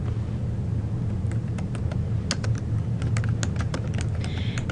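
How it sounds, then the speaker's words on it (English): Someone types company details on a computer keyboard, giving irregular clusters of light clicks over a steady low background hum. "So I'm going to type in my company information."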